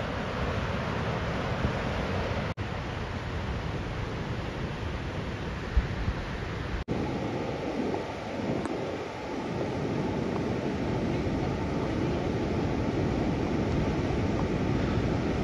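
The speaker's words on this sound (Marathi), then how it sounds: "पाण्याचा जोर बघा किती." Strong rushing water on the Devkund trek in the Sahyadri hills, a steady broadband roar close by and continuous throughout, with brief gusts of wind buffeting the microphone.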